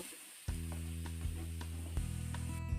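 Onion, garlic, ginger, tomato and green chilli paste frying in hot oil in a wok, a steady close sizzle with a few sharper bursts as it is stirred and fried down.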